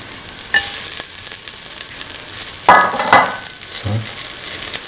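Ginger drops into hot oil and sizzles loudly and steadily, with a couple of stirring scrapes and small clatters from the pan.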